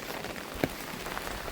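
Sudden rain falling outdoors on a farm, a steady hiss of drops on surfaces with one brief louder patter partway through, moderately quiet and without voices.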